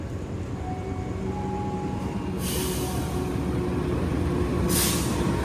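The Purwojaya passenger train rolls through Maos station as a steady broadband rumble of wheels and carriages, with two sharp hissing bursts like air brakes releasing, heard from nearby without talk.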